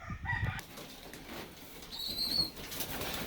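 Pigeons flap their wings in short bursts as they are called back into a loft, the fluttering near and moderately loud, with a brief high chirp or squeak partway through and no talking.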